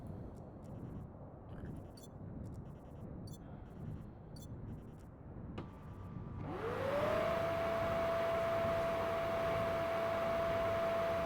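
A machine in the game Stationeers spins up partway through with a rising whine that settles into a steady hum, resembling a mining drill's cue, heard over quiet low background rumble.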